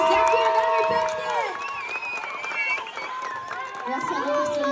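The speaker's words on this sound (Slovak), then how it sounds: "Zabili ste to, potrebujem veľký potlesk, ale pre vás." A festival crowd in Ústí nad Labem cheers and applauds loudly after a performance, with shouts and whistles rising and falling, and voices calling out above the clapping.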